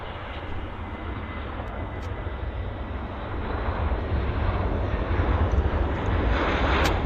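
A Lufthansa Boeing 747-400 at Vancouver Airport gives off a broad, steady jet-engine roar that swells louder partway through, heard from a distance with a constant rushing drone and no talking.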